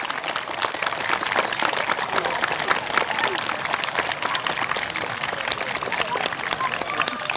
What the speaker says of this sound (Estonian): Aga veel kord, nii tugev aplaus, et isegi minu koduvalda ehk siis Harku valda ka kuulda oleks.